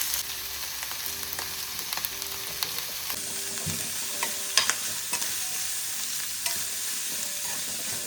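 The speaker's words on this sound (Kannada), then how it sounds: "ಬಸ್ತಿಟ್ಟಿರೋ ಕಾಳನ್ನ ಇವಾಗ ಒಗ್ಗರಣೆ ಮಾಡ್ಕೊತಾ ಇದ್ದೀನಿ." Sprouted horse gram tempered with mustard seeds in hot oil, giving a loud continuous sizzle with crackling pops and repeated stirring scrapes close by, and no voices.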